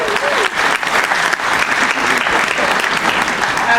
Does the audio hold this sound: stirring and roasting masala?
no